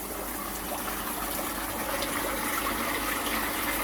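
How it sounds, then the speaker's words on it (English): A water top-up pipe pours into an outdoor koi pond with a steady, continuous rushing gush that holds at an even level throughout, with no speech. "that's my water top up system, which I've just turned on and put the pipe in there, and it's just topping up the pond"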